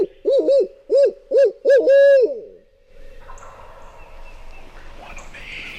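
Several loud, close wild turkey gobbles rattle out in quick bursts, one after another, then fade into quiet outdoor woodland background.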